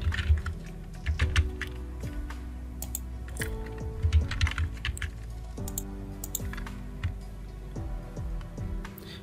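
Computer keyboard being typed on while entering data in Excel, irregular bursts of close, crisp key clicks with short pauses between runs, alone without talk.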